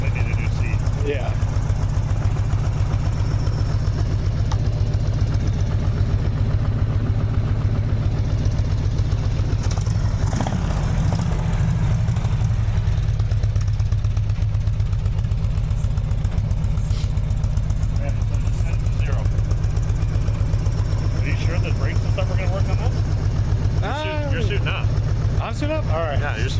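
An old barn-find motorcycle left sitting for years runs steadily with a low throbbing engine drone throughout, while people talk nearby over it.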